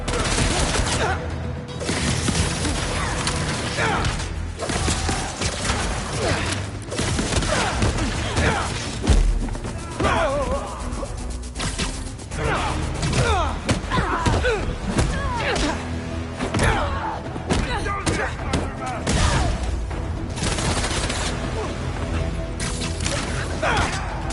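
Repeated volleys of gunfire and heavy impacts in a Spider-Man 2 battle, bursts of shots crackling with thuds, slams and shattering debris throughout a long, loud, busy stretch.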